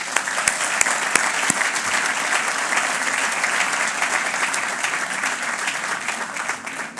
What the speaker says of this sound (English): So I want to give a big applause to everybody here today.